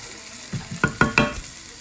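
Chicken pieces go into a hot pan and start frying, giving a short run of sizzling bursts and crackles close by, with no talking over them.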